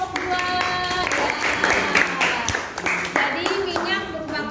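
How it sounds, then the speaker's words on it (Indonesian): Classroom applause for a group of students, a sustained patter of many clapping hands mixed with children's chatter and shouts, close and fairly loud throughout. "Beri tepuk tangan untuk kelompok 2."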